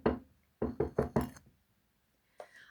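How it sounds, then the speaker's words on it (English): Small, fragile fingers knock on a wooden bedroom door: a single knock, a pause, then four quick close raps in a row, followed by a faint light tap after a silence. "even the second try of knocking on his door had been in vain"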